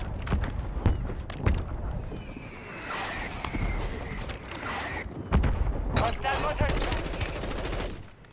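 Warzone 3 gunfire with an MP5 submachine gun, sharp shots cracking in irregular bursts across the scene amid a busy battle din, with a voice talking in places.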